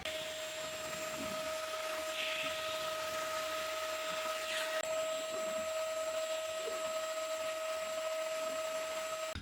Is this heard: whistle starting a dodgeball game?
no